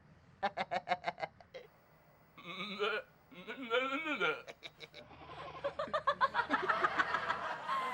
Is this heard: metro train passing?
no